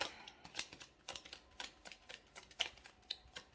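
A deck of tarot cards shuffled by hand, a quick string of soft, crisp riffle-like clicks and flicks in an uneven rhythm, close and fairly quiet with no talk.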